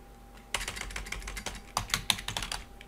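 Keys clatter on a computer keyboard while entering a formula in an Excel spreadsheet, a quick burst of close, crisp keystrokes after a short pause, then a second rapid run.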